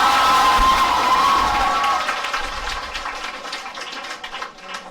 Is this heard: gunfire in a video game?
no